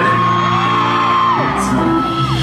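Fans at a concert in Atlanta scream and whoop together, a loud, sustained wall of high-pitched crowd cheering that never lets up.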